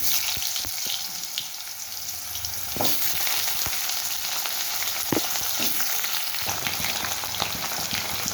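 Potatoes sizzle steadily in hot oil with bay leaf in a pan, with scattered scrapes and clicks of stirring close by and no voices.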